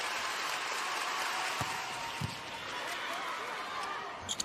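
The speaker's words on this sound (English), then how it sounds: "In an absolute cacophony of noise and claps and cheers and expectations." A dense crowd roars and claps continuously through a volleyball championship final between Osaka Bluteon and Suntory Sunbirds, with a couple of sharp thuds from the court and a commentator talking over the din.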